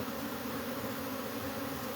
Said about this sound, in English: All that buzzing that you hear, that's them warning me that they're not happy.